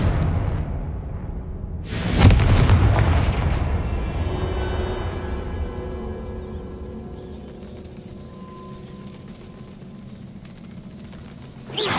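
A Confringo fire spell from the video game Hogwarts Legacy goes off as a single sharp, loud blast with a whooshing burst, followed by a long fading rumble and faint tonal magical shimmer trailing away.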